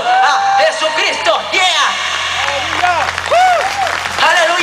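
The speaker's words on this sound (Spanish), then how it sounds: "¡Fuertes aplausos a Jesucristo!" Church congregation applauding and cheering loudly for several seconds, with shouted voices and a sung or chanted line riding over steady clapping.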